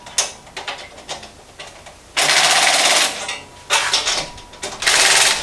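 An impact wrench tightens bolts while a Harbor Freight four-drawer tool chest is assembled, with faint mechanical clicks followed by three loud, close, rattling bursts of hammering, each lasting under a second.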